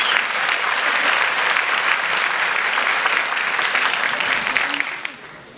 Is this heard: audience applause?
yes